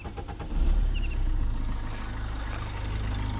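A 2014 Maruti Dzire VDi diesel car engine runs steadily with a low, even rumble close by, a brief rise near the start, then a constant idle-like drone with no talking.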